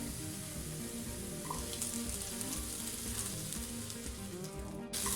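Onion frying in mustard oil over medium-low heat, a steady dense sizzle and crackle running the whole time, close and even, with a faint scrape near the end.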